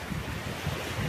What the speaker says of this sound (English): Just feel the waves with me.